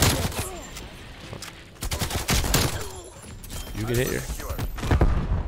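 Krig 6 rifle fire in Call of Duty: Cold War cracks out in rapid bursts across the match, mixed with game thuds, while a player talks over the shooting.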